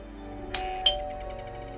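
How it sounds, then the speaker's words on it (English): Doorbell ringing with a two-tone ding-dong chime, two clear strikes close together that ring out and fade over a quiet background. "reached out my hand to ring the doorbell"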